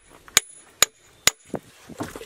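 A hammer strikes an iron anvil floating in a bath of mercury three times in an even rhythm, each a sharp metallic clink, followed by softer knocks and handling sounds, close and fairly quiet.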